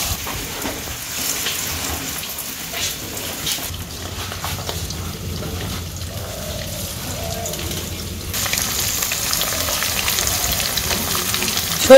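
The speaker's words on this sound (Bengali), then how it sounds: "কড়াই গরম হয়ে গেছে, তেল দিয়ে দিলাম।" Hand-pressed mustard oil sizzles and crackles in a hot village kadai, a steady close frying hiss that grows slightly louder toward the end, with no talk over it.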